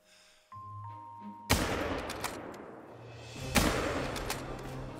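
Two loud, sharp shots ring out about two seconds apart while hunting an animal in theHunter: Call of the Wild, each with a lingering rumbling tail, after a quiet stretch of soft ambient hum.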